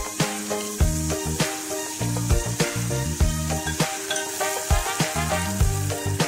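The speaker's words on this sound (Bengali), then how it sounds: "আদা রসুন জিরা বাটা এবং হলুদ মরিচের গুঁড়ো একসঙ্গে দিয়ে দেব। তারপরে ভালোভাবে কষাতে থাকবো।" Ginger, garlic and cumin paste with turmeric and chili powder, then mustard paste, sizzling and frying loudly in a pan while a spoon stirs and scrapes in repeated strokes, for a Bengali taro leaf dish with shrimp and coconut.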